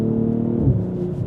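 A BMW G42 M240i fitted with an Akrapovic exhaust and a DCE Parts 200-cell downpipe gives a deep, throaty engine rumble. It swells briefly in the middle of the clip, then settles back to a steady drone.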